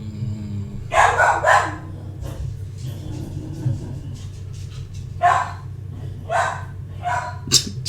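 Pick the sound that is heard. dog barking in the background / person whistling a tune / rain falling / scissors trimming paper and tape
dog barking in the background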